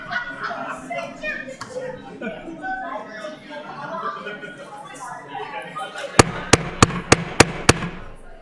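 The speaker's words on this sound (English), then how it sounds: "I'm gonna bang the gavel." A gavel bangs six times in quick, even succession to open a city council work session, sharp and close after several seconds of room chatter and light laughter among people talking.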